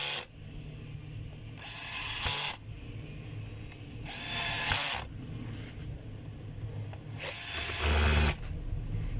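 A power driver tightens screws while a Makita circular saw is being reassembled, giving three short, loud whirring bursts separated by quieter pauses, with a faint hum underneath.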